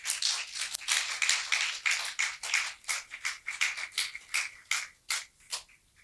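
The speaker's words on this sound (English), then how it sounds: "A round of applause for her, please." A workshop audience applauds a speaker being welcomed, with dense clapping that thins into scattered, uneven claps before fading out.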